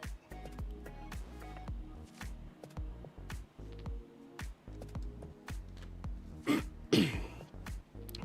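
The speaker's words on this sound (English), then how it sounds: "Sorry, I'm clearing my throat." Someone close by clears their throat in a couple of short, rough bursts near the end, amid soft shuffling and handling sounds while opening trading card packs.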